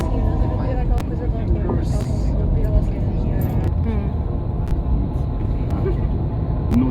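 A tour bus travelling on the road from Florence to Pisa gives a steady, loud engine and road rumble that runs for the whole stretch. Faint voices come through now and then underneath it.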